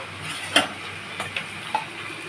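Shrimp going into a pan of frying kudri greens gives a soft low sizzle with a few quick clicks and taps from a utensil, close by and fairly quiet, with no talk.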